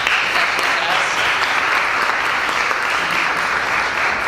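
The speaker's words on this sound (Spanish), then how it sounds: "Pido un aplauso para Jenny." Dense, continuous applause from a social sciences forum audience in Santo Domingo, loud and unbroken from start to finish.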